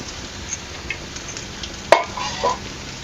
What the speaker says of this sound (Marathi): तळून घ्यायचं पूर्ण असं लालसर होऊसपर्यंत आहे ना आपल्याला हे तळून घ्यायचं